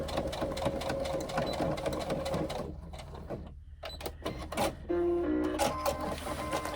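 A sewing machine stitches the seams of a pouch in steady whirring runs, pausing in the middle before starting again close by, with a quieter stretch and uneven bursts toward the end.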